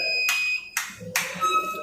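A UTL Heliac solar inverter sounds sharp electronic overload warning beeps, clear and close. They are broken up by bursts of broadband noise like clapping, with a faint voice in the background.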